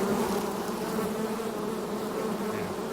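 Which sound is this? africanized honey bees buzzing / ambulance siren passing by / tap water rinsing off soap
africanized honey bees buzzing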